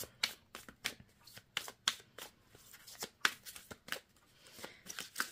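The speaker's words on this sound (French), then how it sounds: "On va prendre deux autres cartes déjà pour commencer." Tarot cards are shuffled and drawn by hand, producing a quiet, close series of quick riffling flutters and soft slaps repeating in an uneven rhythm.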